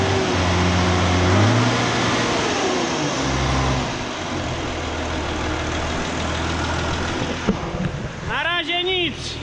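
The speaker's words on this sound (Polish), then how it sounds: "ale silnik wkręca się mega" A Zetor tractor engine roars steadily up close, revving hard during repair work, its pitch shifting as it revs, with a brief spell of high mechanical whine near the end.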